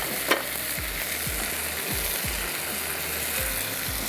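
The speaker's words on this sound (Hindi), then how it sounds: "चलिए यहाँ पर भी चम्मच चलाते जाते हैं।" A spoon stirs and scrapes through food sizzling and frying in a pan while cooking tangdi kebabs, with steady close sizzle and repeated low scraping strokes.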